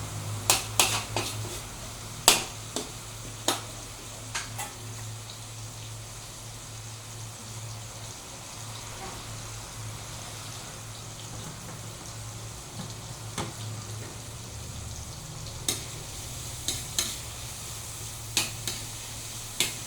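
Mussels sautéing in an uncovered pan as ginisang tahong, a steady low sizzle and hum running throughout with scattered sharp clicks and taps of a utensil against the pan, no talking.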